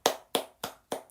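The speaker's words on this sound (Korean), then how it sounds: "박수." Four crisp hand claps at a steady, quick pace, close and fairly loud, with a fainter fifth clap trailing at the end; no voices.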